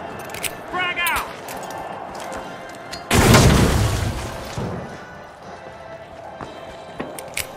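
A frag grenade goes off in the shooter game The Finals, one loud booming blast a few seconds in that rumbles and fades over about a second, after scattered footsteps and game sounds.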